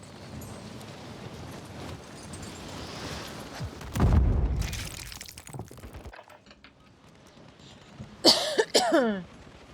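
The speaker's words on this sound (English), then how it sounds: "You know that stage of your cough or your cold when it's just like that annoying dry cough?" A dry cough breaks out in a couple of harsh, throaty bursts midway, close and fairly loud over faint game sound, followed later by a short voice.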